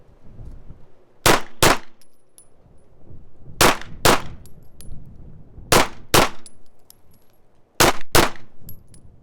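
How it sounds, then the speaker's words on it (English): Four pairs of sharp, loud pistol shots from a Ruger RXM, each pair fired in quick succession with pauses of about two seconds between sets, ringing briefly outdoors. "now we're gonna shoot a couple sets of doubles"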